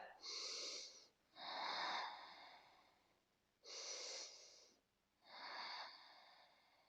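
Deep, slow breathing during a yoga plank pose: four long, loud breaths close to the mic, alternating inhale and exhale with short pauses between them.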